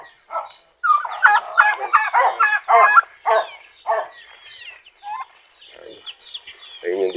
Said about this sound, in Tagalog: So yan yung mga pabo natin.